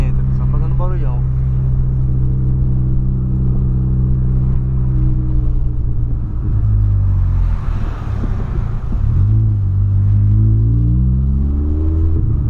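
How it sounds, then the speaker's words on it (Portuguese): Loud, deep engine rumble from a modified, tuned Volkswagen Polo idling, steady and close throughout, with the pitch swelling and dropping in a few slow revs. "Bolão só na marcha lenta, só fazendo barulhão."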